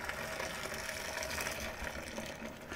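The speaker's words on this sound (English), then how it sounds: "grab my kettle, and just pour it in" Boiling water at 100 degrees Celsius pours from a kettle into a pot, a steady hissing, splashing gush that runs continuously and fairly quietly without a break.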